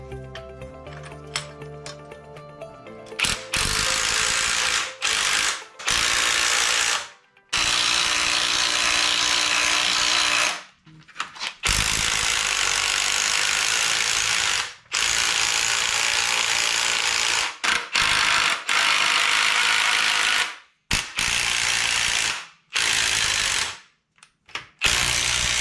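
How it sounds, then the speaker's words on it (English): A ratcheting tool works at compressing the struts of a Saab 9-3 Viggen, running as a loud, close mechanical rattle in repeated long bursts with brief gaps across the whole stretch. "we're gonna go ahead and compress the struts"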